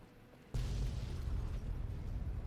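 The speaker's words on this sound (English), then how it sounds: "Explosion." A video-game explosion in Fallout: New Vegas bursts in abruptly, then settles into a loud, sustained low rumble that rolls on for a couple of seconds with no speech.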